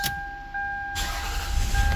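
A 1998 Lexus ES300 cranks after a faint electronic beep, with a low, rough starter churn rising loud and close over the final second.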